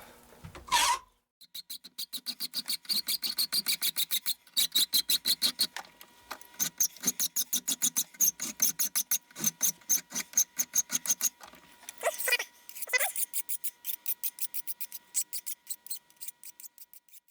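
Close rhythmic rasping strokes of a hand file cleaning up the cut edge of a homemade metal AR15 wrench, fast and steady with a few brief pauses and no talking.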